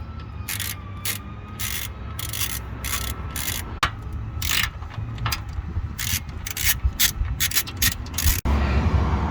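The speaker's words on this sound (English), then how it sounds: "Next up, we're going to remove the bottom 2 bolts, but we're going to leave the top ones in place" A ratchet wrench clicks in quick bursts while loosening the bottom bolts on a Honda Fit air-conditioning condenser, with a clattery mechanical rhythm and small metal knocks between strokes, close up with no talking.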